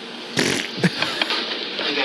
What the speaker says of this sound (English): can't cover a fart with a fart